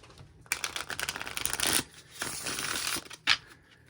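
Tarot cards are shuffled close up in quick riffling bursts, two longer runs of rapid flutter followed by a short final snap of the deck, with no talking.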